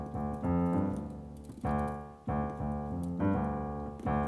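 Piano plays the bass line of a song, sustained chords in repeating phrases with a clear restart every second or so, loud and close with no talking.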